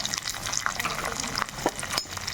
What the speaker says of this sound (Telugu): ఇప్పుడు మనము తరిగి పెట్టుకున్న ఉల్లిపాయ, పచ్చిమిరపకాయలు వేసుకుందాం ఇందులో.